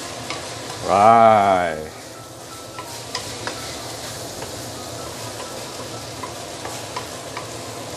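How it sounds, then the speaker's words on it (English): Long beans stir-frying in a hot pan over medium heat, a steady crackling sizzle with light scraping strokes, after a brief spoken word at the start. "Give it a few stir to stir fry it."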